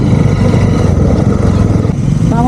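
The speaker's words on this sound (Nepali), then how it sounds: "थुप्रो बाइक आउँदैछ" Many motorbikes on a group ride pass close by, making a loud, dense, continuous engine roar and rumble that stays heavy throughout.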